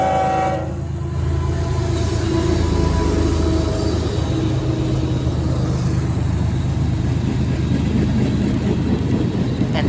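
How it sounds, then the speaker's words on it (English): Test locomotives from Knoxville Locomotive Works run close by, with a loud horn blast at the start giving way to a heavy, sustained diesel engine roar and rail rumble. "Can't forget the testing locomotives from Knoxville Locomotive Works."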